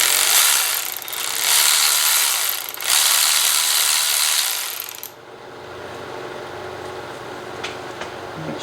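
A ratchet tightens a nut on the timing assembly of a Subaru BRZ short block, a fast steady clicking that runs loud and continuous for about five seconds, then drops to a quiet room hum with a few faint ticks.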